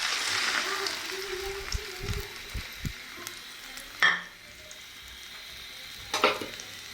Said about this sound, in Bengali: আমাদের তেলগুলো গরম হয়েছে, এখন দিয়ে দিব মেখে রাখা ডিমটা।